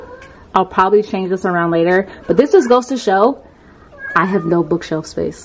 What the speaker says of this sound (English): That is my cat. She's deciding to start yelling while I'm recording